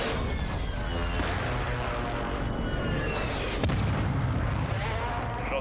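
Close air support strike in Warzone 2, a dense, continuous rumble of explosions and heavy fire with a sharp blast near the middle, with radio-style voices over the top.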